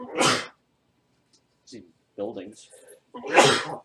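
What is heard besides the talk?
sneeze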